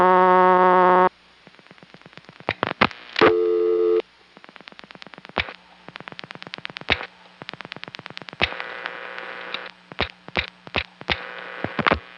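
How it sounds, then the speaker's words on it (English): A telephone line on a 1974 Annapolis, Maryland #5 Crossbar exchange, with steady tones, bursts of rapid pulsed clicks and tone segments, ending in a repeating on-off busy signal, loud and close with no voices. "it simply gave me a busy tone"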